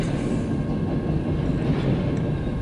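A BNSF freight train hauling autorack car carriers rolls past close by, a loud steady low rumble with a rail clatter filling the whole short stretch and no voices.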